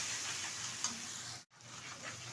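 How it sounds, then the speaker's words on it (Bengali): Poppy seed paste frying in a pan while being stirred for Bengali aloo posto, a soft steady sizzle with faint scraping and a brief dropout partway through, no talk. "ভালোভাবে একটু নেড়ে ফেড়ে নেব।"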